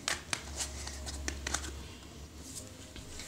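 Pokemon trading cards being handled and shuffled close by, a series of light papery slaps and flicks in an irregular rhythm, with faint low background hum and no talking.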